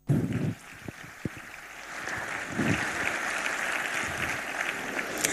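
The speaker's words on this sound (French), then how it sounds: "Des applaudissements, s'il vous plaît." An audience applauds steadily as a guest joins a speaker on stage, producing a continuous wash of clapping with a few sharper bursts near the start.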